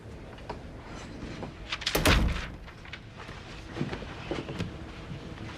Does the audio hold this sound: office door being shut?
yes